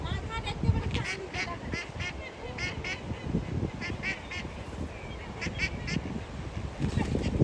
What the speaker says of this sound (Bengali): তাহান তুমি আস্তে আস্তে যে ধরো হাঁসের বাচ্চাগুলো